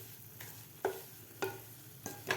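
Semolina roasting in ghee in a pan for a black chana halwa, with a spoon scraping through it in about four separate strokes over a quiet low sizzle, close and fairly soft.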